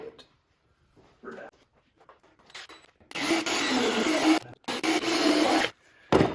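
A power drill bores through a wooden van kitchen cabinet, loud and close, in two long sustained grinding bursts separated by a brief stop, after quieter handling noises.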